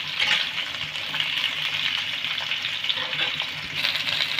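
Sliced ridge gourd stir-fried with tempering spices over a medium gas flame, a continuous close sizzle with bursts of hissing and faint stirring scrapes, no voices.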